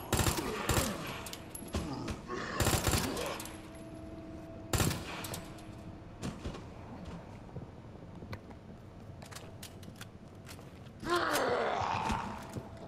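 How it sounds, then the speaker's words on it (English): Machine gun fire in Resident Evil 2, several loud bursts of rapid shots in the first few seconds, then scattered single shots and groaning sounds, ending with a harsh burst near the end. "I might use the machine gun here"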